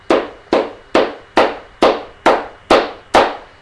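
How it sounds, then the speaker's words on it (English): Eight muffled cupped-hand flamenco palmas claps, the soft sordas style, landing close and evenly in a steady rhythm with a dull, bassy thud and no talk. "cupping the hands together like this and getting a muffled, bassier sound"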